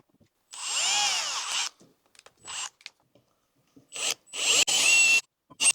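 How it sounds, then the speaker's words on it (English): A power drill fitted with a 4 mm bit bores into metal lubricated with cutting oil, giving two loud sustained whining bursts separated by short scraping noises and pauses, close by with no talk. "I'm going to start off with a 4 mil drill maybe."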